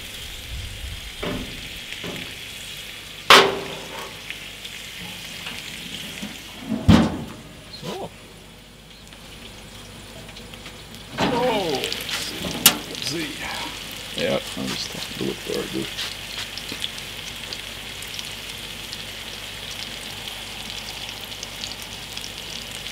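Gentle sizzling of meat cooking on a gas grill, with occasional clanks and thuds of utensils and a brief pause partway through.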